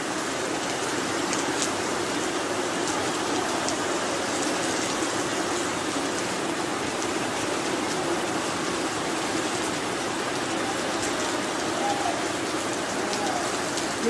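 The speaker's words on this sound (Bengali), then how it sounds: "অঝরে নেমে গেছে বৃষ্টি" Heavy rain pours steadily toward New Town, a dense, even hiss of drops drumming on surfaces, constant and close for the whole stretch, with faint trickling water beneath.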